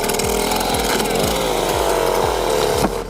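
A newly rebuilt Stihl 090 AV chainsaw with a 4-foot bar cuts through a massive oak root ball, loud and close, its low-revving engine thudding in a slow regular pulse beneath a harsh grinding roar.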